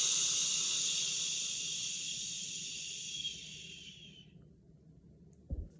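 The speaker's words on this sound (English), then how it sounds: "Inhale and exhale with that shh sound." A person breathes out through the teeth in a long, steady shh hiss that slowly fades and cuts off, followed by a faint soft bump.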